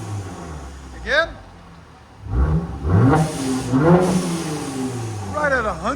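A 2018 Mercedes E400 3.0L twin-turbo V6 with straight-pipe exhaust revs in several sharp, loud bursts that rise and fall close by. People talk and call out between and over the revs.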